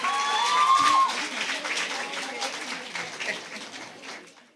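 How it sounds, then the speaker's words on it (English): Audience applause follows a student's impromptu speech at a secondary school speaking competition, a broad wash of clapping that starts loud and fades gradually, with a brief voice or whistle-like tone near the start. "Another round of applause for the Peers Secondary School."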